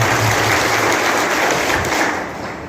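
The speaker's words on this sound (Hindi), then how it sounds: "इनके लिए जोरदार तालियां हम सबसे पहले बजाते हैं।" Dense, steady applause from an audience at a Gurjar community press conference in Shukratal, Muzaffarnagar, loud and sustained before easing off slightly at the end.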